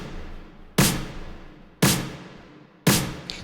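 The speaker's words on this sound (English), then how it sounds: "Snare sub sounds like this." A layered snare sub drum sample, EQ'd and drenched in reverb, strikes three times at an even, unhurried pace, each hit booming and then fading into a long wash.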